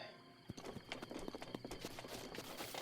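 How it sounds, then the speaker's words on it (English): Quick clip-clop of horse hooves in the video game The Legend of Zelda: Breath of the Wild, a wild horse trotting at a steady beat, quiet and fairly close, without speech. "A horse?"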